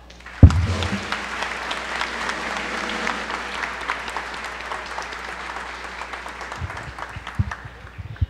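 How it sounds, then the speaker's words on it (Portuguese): A crowd applauds steadily for several seconds at the close of a formal medal award session, dense clapping that fades slightly toward the end, with a brief thump at the start and faint voices near the close. "Uma salva de palmas para finalizarmos esta sessão."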